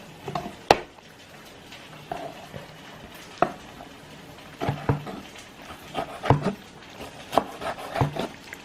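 Week-old fermented vegan kimchi being sliced with a knife on a wooden cutting board, giving irregular close knocks and wet thuds spaced a second or so apart.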